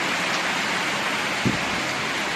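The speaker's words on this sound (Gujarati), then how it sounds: "બહાર વરસાદ પડી રહ્યો હો" Steady rain falls outside a house at night, an even, unbroken hiss with no clear drops, and a single faint thud partway through.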